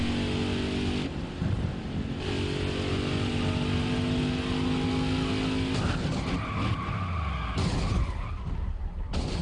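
A multiple-car wreck in NASCAR Heat 5 brings long tire squeals and skidding over roaring race-car engines, with cars rushing past and crunching together, loud and close, without any talking.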